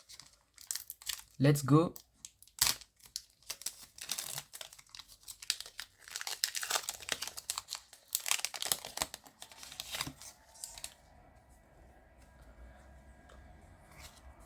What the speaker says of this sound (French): nous allons ouvrir le dernier booster de l'ETB